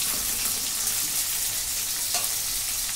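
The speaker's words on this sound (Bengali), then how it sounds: "তাই মাছটা ভাজছি।" Fish frying in a pan of hot oil, giving a loud, continuous, dense sizzle that holds steady throughout with no speech.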